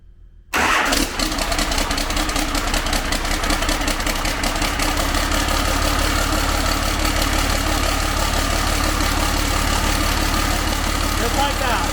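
A Cummins diesel swapped into a Ford truck cranks and fires up at once, then settles into a loud, steady, rattling close-up idle.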